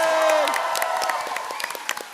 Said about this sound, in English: Let's have a round of applause for Thank Turps.